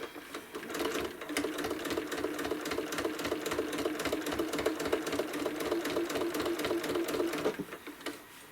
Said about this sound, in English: press that tack stitch, the tack stitch button on my machine, and let the machine do its thing, and then start quilting